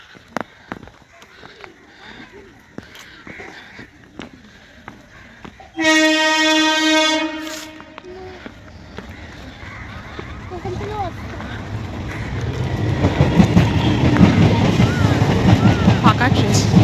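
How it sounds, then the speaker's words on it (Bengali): Train passing a village stop, a loud horn blast lasting about two seconds, then the rumble of rolling wagons building up and growing louder as the train runs close by, with wind noise and some talk. "ফাঁকা ট্রেন"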